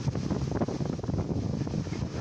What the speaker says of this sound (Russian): Перед дождем поднялся сильный ветер